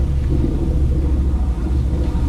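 The port diesel engine of a motor yacht runs steadily as a deep, constant low rumble, with no talking over it.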